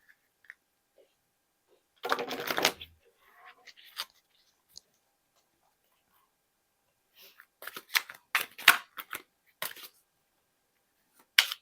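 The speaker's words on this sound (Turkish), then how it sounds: "Öncelikle şöyle bir dağıtacağım kartlarınızı." Tarot cards are dealt and handled by a reader, giving a short flurry of riffling near the start and then a run of crisp card slaps and flicks later, close and quiet against silence.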